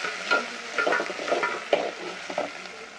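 Village-grown curry leaves drop into hot oil in a frying pan and crackle with a bright sizzle, broken by stirring scrapes and short pops, close and clear.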